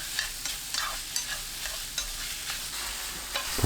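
Salted eggplant stir-fried over high heat in a pan gives a steady sizzle broken by repeated clicks and scrapes of stirring, close up with no voices.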